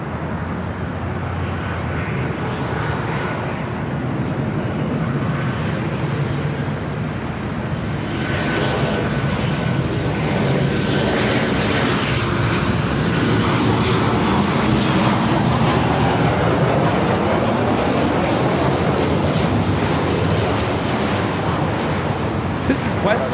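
A WestJet Boeing 737-800 from Calgary comes in to land at LAX, its jet engines a broad, steady roar that slowly swells and stays loud throughout, with faint radio or voice chatter mixed in.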